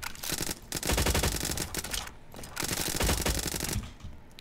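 Rapid gunfire in Roblox Jailbreak, sounding as two loud, sustained bursts of quick repeated shots separated by a short pause, close and dominant with no voices.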